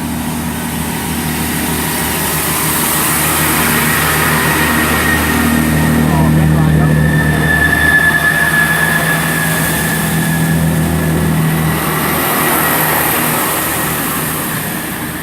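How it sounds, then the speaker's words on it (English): Class 166 Turbo diesel unit 166-210 pulling away from a station toward Taunton, a loud sustained engine drone building and fading with a faint whine, a voice talking over it. "Departing out 166-210 to Taunton."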